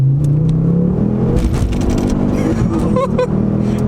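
A Ford Focus RS 500 mkII, a 350 hp front-wheel-drive hatchback, revs and accelerates loud and close in a steady engine roar, with faint voices mixed underneath.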